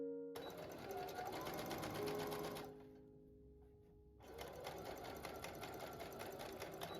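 A sewing machine stitches pocket panels onto a pants skirt, running steadily and loud up close, pausing briefly midway before resuming its rapid whirring rhythm.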